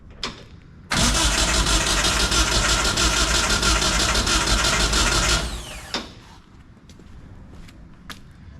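A small carbureted engine is cranked and sputters into a loud, steady puttering run for about five seconds, then cuts out abruptly, leaving quiet background noise.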